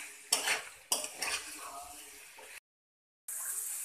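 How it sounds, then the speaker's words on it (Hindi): Chicken tossed with dry coconut in a pan, stirred and roasted: bursts of scraping spoon and clinking against metal over a soft sizzle, broken by a brief silent gap before the frying hiss returns. "और अब हमें इसे अच्छी तरह से मिक्स करके और 1 मिनट तक इसे हमें चिकन को भून लेना है"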